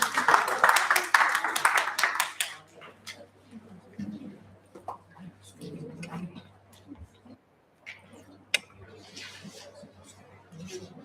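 Conference audience applause welcomes a presenter at an academic event, a burst of clapping that fades within a couple of seconds before quieter room sounds and speech follow.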